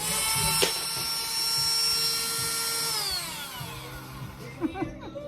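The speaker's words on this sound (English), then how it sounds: "And then since the little piece of wood was too long, I needed to cut that down. So I'm using my Dremel," A Dremel rotary tool whines at high speed while cutting down a small piece of wood, a steady close tone that slides lower near the end as the tool spins down, with short clicks and handling noises afterward.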